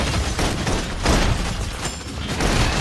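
Suppression gunfire in the video game Love and Deepspace: a dense, continuous barrage of booming shots and bursts that stays loud and close for the whole stretch, with no speech over it.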